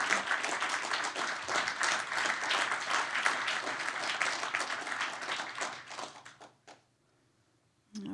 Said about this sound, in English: Please stand and applause.